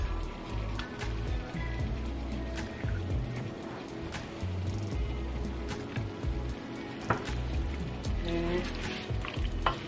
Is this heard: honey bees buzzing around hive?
no